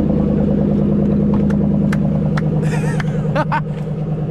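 A Gladiator off-road vehicle's large engine starts and idles with a loud, throbbing low rumble, while a few clicks and brief chatter come through on top of the steady motor.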